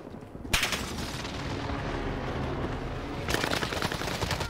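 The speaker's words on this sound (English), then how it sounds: "Allied precision airstrike." Precision airstrike explosions rumble in an online shooter game tournament, a loud continuous barrage of blasts with sharper bursts at the start and near the end, no talking.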